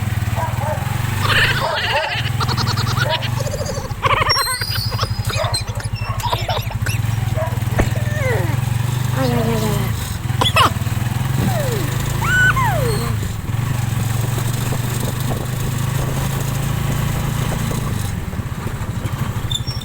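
A motorcycle with a sidecar drones steadily at low pitch throughout, close and continuous, while someone talks over it and animal bleats or barks sound intermittently.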